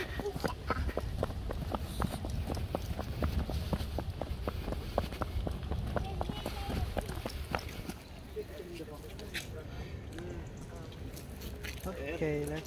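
Horse hooves clip-clop in a steady, fairly close rhythm on an outdoor visit to Ham House in Richmond, London, with people talking over the hoofbeats before they fade out.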